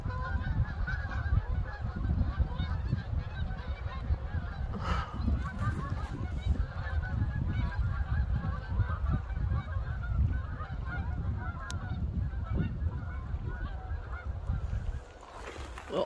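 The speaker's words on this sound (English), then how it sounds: "Geese are coming." A flock of geese flies over an outdoor dinner, giving steady overlapping honks from overhead across a wide, breezy background.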